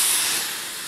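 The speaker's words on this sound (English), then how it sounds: "Steam." A garment steamer hisses steadily as steam sprays onto delicate clothing, a loud, continuous close-up rush of air alone with no voices.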